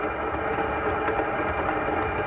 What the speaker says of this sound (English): So what that sound is that's the water pump.